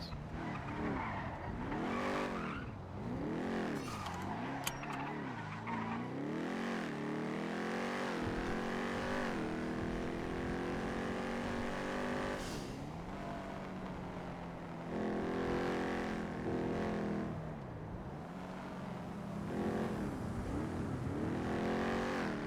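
Car in the GTA roleplay game skidding with no brakes, tires squealing repeatedly as the engine whines up and down, loud and continuous with no talking.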